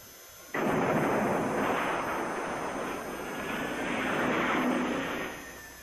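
A loud, roaring aircraft engine rushes in abruptly and sustains a broad rumbling drone, swelling and easing slightly as the plane passes overhead.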